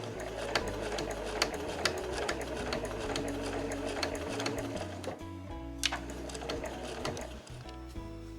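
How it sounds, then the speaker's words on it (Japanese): A sewing machine backstitches at the end of a seam on a reversible drawstring tote bag, stitching in a rapid, steady mechanical rattle with a brief slowdown near the end. "縫い終わりも返し縫いをします。"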